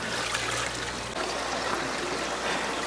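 Water runs and splashes steadily over a dirty aquaponics filter stone as it is rinsed of solids, a continuous close washing sound with no talk.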